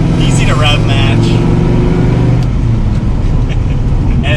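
Dodge Viper engine droning steadily while driving, a loud low rumble filling the cabin with a brief rising rev early on, while a person talks over it.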